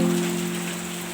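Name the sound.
rain falling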